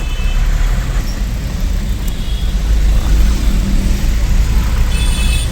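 Congested city road traffic in Chennai, with a steady low rumble of cars, buses and trucks idling and creeping along, a faint horn-like tone near the end, heard from inside a vehicle.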